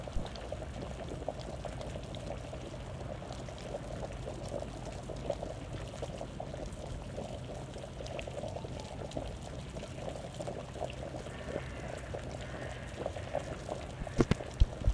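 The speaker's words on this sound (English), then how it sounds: "I think maybe he should boil a little more water too." A steady, quiet stream of water pours and bubbles on the boil in a video game's camp cooking scene, a soft continuous wash with a few faint clinks near the end.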